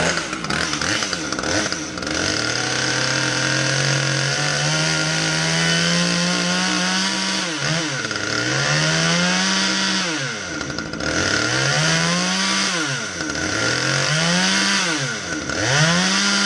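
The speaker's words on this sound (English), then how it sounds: "the Husqvarna T540 top panel chainsaw that wouldn't oil" A Husqvarna T540 top-handle chainsaw, repaired after an oiling fault, runs loud and close, revving up and dropping back several times in a rising, falling rhythm with no talking.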